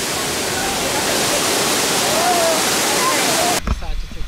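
Forest stream water rushing loudly and steadily in El Yunque National Forest, Puerto Rico, a broad continuous wash that cuts off abruptly near the end, leaving brief quieter handling noise.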